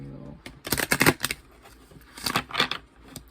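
Two quick bursts of cards being riffled and shuffled, crisp rapid flutters with a short pause between them, close by and fairly loud.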